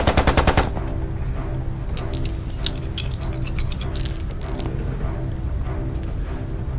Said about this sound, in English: He fires his Tommy gun.